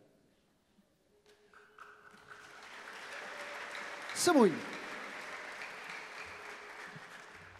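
A church congregation breaks into applause during a sermon; the clapping swells from a few scattered claps into a sustained, moderately distant round that carries on while a preacher's voice speaks over it.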